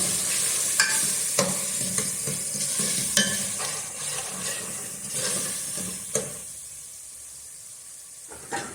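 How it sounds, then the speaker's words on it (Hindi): Spices with cumin sautéed in hot oil for Sindhi aloo methi pulao, a continuous hissing sizzle with regular spoon strikes against the pot that thin out toward the end, no talking. "अभी मसाले को थोड़ा अच्छी तरह भूनें।"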